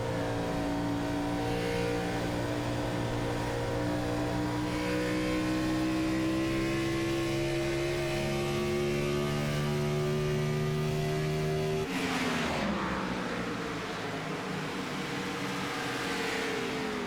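Simulated race car engine at Motegi in a racing video game, a loud continuous whine climbing steadily in pitch through the gears, then dropping sharply and rising again as the throttle is reapplied.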